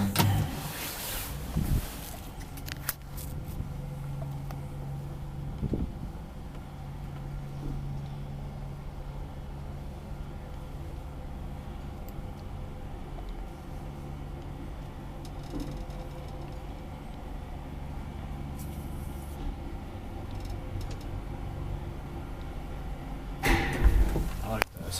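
Old Kone traction elevator, built in 1963, in an Espoo apartment building: low motor hum and a steady whirring drone during the ride, with clunks and clicks of doors and machinery at the start and end, voices faintly present.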